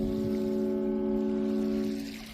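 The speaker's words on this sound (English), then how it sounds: "There's a nice foghorn." A deep, steady foghorn blast sounding from a distance over faint ocean noise at Gonzales Beach, Victoria BC, in fog, fading slightly toward the end.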